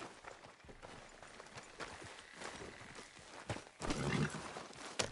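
Horse hooves clop along in Red Dead Redemption 2, an uneven walking rhythm of soft thuds with a louder burst of hoofbeats near the end, no talking.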